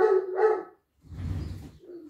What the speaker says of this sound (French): quand le chien gueule comme ça, c'est qu'il y a quelqu'un au portail